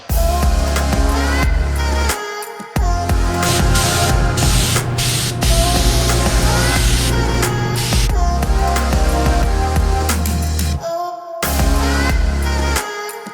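A spray gun applying tinted clear coat to a truck hisses almost continuously at close range, pausing briefly twice before resuming its steady spray.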